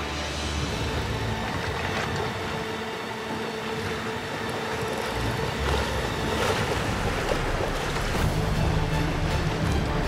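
Racing sailboats beating upwind during a Nations Cup 2011 match race: a steady, loud rush of wind and water with hull slap and gusty microphone buffeting throughout, with no voices.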